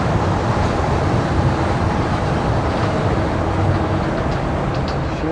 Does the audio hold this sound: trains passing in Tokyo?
yes